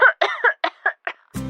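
A woman gives a short series of soft, breathy coughs, about six quick bursts close to the listener, ending with a brief throat-clearing sound.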